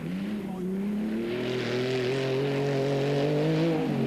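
A rally car at the 1993 Welsh Hill Rally drives past with a sustained engine drone that rises steadily in pitch, loud and continuous with no audible voices.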